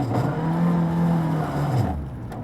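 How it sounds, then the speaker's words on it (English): Colin McRae's rally car at the 2003 Swedish Rally, its engine sputtering and labouring low after a spin in snow clogged the air intake, a loud steady uneven drone that dips toward the end. "During the spin, snow got into McRae's air intake, the engine sputters"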